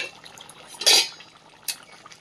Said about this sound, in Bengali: ঢাকনাটা খুলে দেখে নেব।